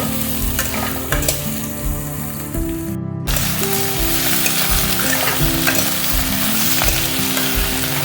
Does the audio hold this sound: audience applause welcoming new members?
no